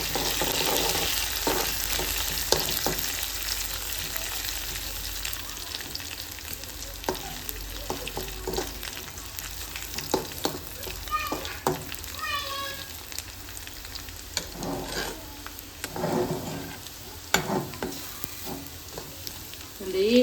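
Onions sizzle and crackle steadily in a hot pan, with occasional stirring and faint voices in the background.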